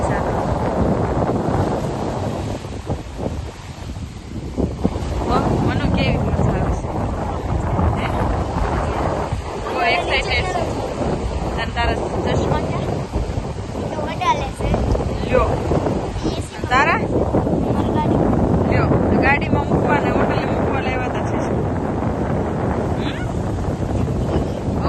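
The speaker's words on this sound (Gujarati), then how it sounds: "કેટલા મોજા મારે છે કેટલું આમ જો ઠંડો ઠંડો પવન આવે" Strong cold wind buffets the microphone over a steady roar of sea waves, with people talking throughout.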